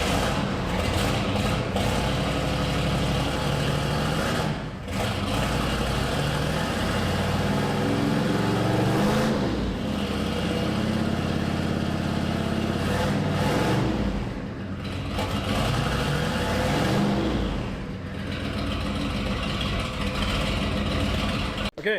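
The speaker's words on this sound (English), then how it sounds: "so that was 3-inch exhaust right off of the turbo. Love that sound." Turbocharged farm truck running through a 3-inch straight pipe off the turbo, a loud, continuous, raspy exhaust drone with several rev swells and dips across the clip.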